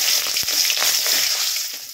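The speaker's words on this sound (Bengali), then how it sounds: "এবার এই তেলটার মধ্যে কালো জিরে আর কাঁচা লঙ্কা ছড়িয়ে দিই।" Nigella seeds and green chillies fry in hot oil for a fish curry, giving a steady, close hiss and sizzle with small crackles throughout and no voices.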